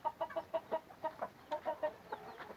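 A red Aseel rooster clucks close by in a quick, steady series of short, throaty pulses, with a softer, looser run of clucks near the end.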